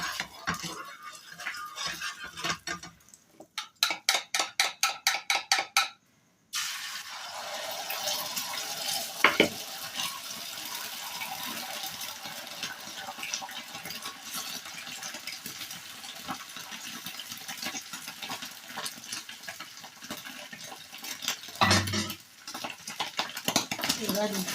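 Egg roll filling stirred in oil in a pan at home, with steady frying sizzle and scraping of a utensil through most of the stretch, a brief rhythmic tapping early on and a short break in the sound before it resumes.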